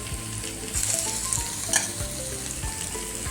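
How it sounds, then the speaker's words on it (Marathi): Sweet potato pieces roasting in ghee over a low flame give a dense, close sizzle and fry, while a steady hum with pitch sweeps runs underneath and a sharper crackle comes near the middle. "प्रत्येक रताळ्यावर तूप सोडायचं, रताळ्याच्या फोडीवर."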